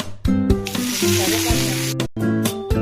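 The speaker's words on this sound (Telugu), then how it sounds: "పాన్లో కొద్దిగా ఆయిల్ వేసుకొని ఇప్పుడు తాలింపు పెట్టుకోవాలి." Hot oil sizzles loudly and steadily, with mustard seeds, urad dal and cumin crackling as they temper and a few clinks or stirs cutting through, close and continuous.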